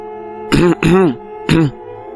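Three short voiced cough-like bursts with rising-falling pitch, close and loud, like a deliberate teasing cough imitated by a voice.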